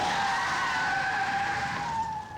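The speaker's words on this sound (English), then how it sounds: "A dramatic car chase on the Queensway." Car tyres skid on the Queensway in a staged car chase driven by actors, giving a loud, sustained squeal up close that fades slightly at the end.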